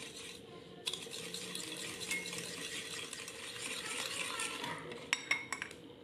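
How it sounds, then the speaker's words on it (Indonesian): Egg yolks and sugar being stirred in a bowl for choux au craquelin, with a steady scraping, clinking whisk or utensil against the bowl throughout and a few sharper clinks near the end. "Masukkan kuning telur ke dalam wadah, kemudian kita masukkan gula pasir, dan aduk sebentar hingga tercampur rata."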